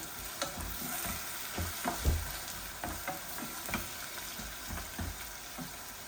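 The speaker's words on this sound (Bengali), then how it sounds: "এখন আমার বুনা চিকেনের মাঝে মশলা দিলাই," Chicken bhuna sizzles and fries steadily in a pan as spices go in, with a continuous close hiss broken by soft scraping stirs and small pops, no talking.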